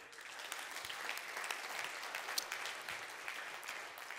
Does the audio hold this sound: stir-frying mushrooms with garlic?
no